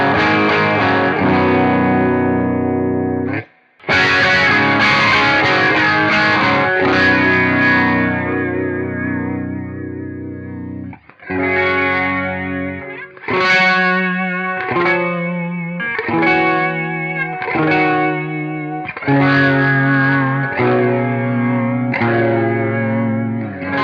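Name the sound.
electric guitar through rotary speaker pedal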